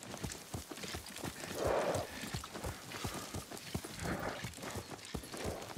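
Horse hooves clip-clopping at a steady riding gait in Ghost of Tsushima, a regular rhythm of close hoof strikes with a brief snort or whinny partway through and a faint background bed.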